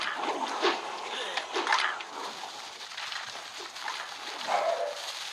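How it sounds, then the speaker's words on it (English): A dog barks a few times in the background, moderately distant, mixed with game-like noise and busy background sound. "You might hear my dog right there barking."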